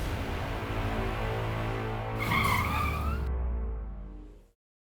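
A vehicle on the road brakes to a stop. Its engine rumbles steadily, then there is a brief squeal of brakes or tires, and the sound dies away to silence.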